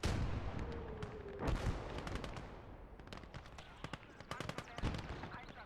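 Sturmpanzer artillery firing in the WWII game Gates of Hell, heard as a loud booming blast around 1.5 seconds followed by scattered sharp gunfire cracks and later impacts over continuous battlefield noise.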